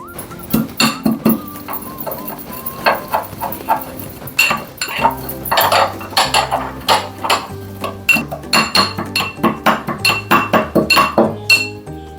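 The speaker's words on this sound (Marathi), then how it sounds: "आणि ह्याच्यात आपल्याला खसखस आणि बडीशेप जरा कुटून घ्यायची बारीक करायची" Poppy seeds and fennel seeds are pounded, giving loud, close, rhythmic knocking strikes with a hard clinking ring, repeated in quick regular bursts throughout.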